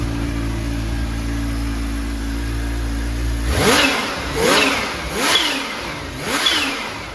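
The H2's turbocharged engine idles low, then revs hard four times in a rhythmic pattern, each surge carrying a rising turbo boost whistle, loud and close.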